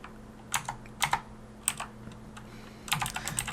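Sparse, quiet keystrokes on a computer keyboard come in small clusters as a username and password are typed, over a low steady hum.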